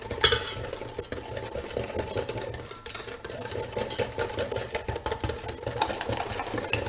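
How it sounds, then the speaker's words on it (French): Hot maple syrup being stirred into egg yolks and sugar makes a steady, busy scraping and swishing noise that runs without pause, close up, with no voices. "on va verser dans les jaunes et le sucre"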